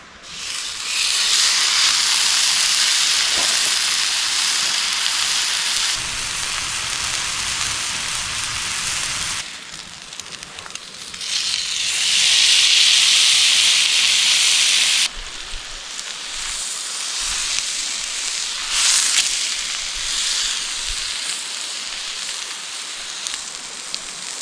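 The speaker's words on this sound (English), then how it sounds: "I'm gonna start with the steak, just so after I cook it" A steak cooks over a camp stove in the backcountry, giving a loud, steady hissing sizzle that swells and eases in long bursts, with no voices.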